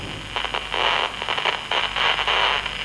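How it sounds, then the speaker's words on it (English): A transistor radio held near a charged screen picks up static, a harsh hiss that swells and fades in rough, crackling bursts. It is loud and close, with no talk over it. "you can hear a static charge."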